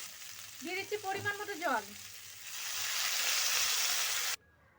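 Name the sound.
water poured into spiced cauliflower and potato curry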